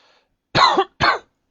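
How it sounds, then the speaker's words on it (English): Two short, close coughs, the first a little longer than the second, after a brief silence. "that cough seems to be getting worse"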